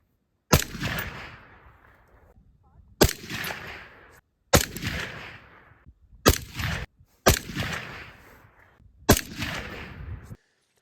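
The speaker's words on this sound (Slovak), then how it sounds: "Pozor, strieľam!" Six sharp gunshots from a Brugger & Thomet rifle fitted with a Print-X RBS 7.62 suppressor crack out one by one at uneven intervals, each with a short decaying tail.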